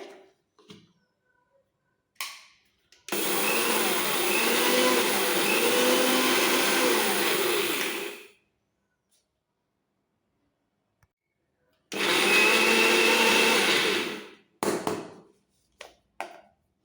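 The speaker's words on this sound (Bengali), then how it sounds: "জল ছাড়াই আগে একটু বেটে নেবো এখন কিন্তু আমি জল দিইনি একটু মিহি করে গুঁড়িয়ে নিতে হবে" A mixer grinder dry-grinds poppy seeds in two loud bursts, a roughly five-second whirring run and then a shorter one, with brief clicks and pulses between them and quiet gaps around.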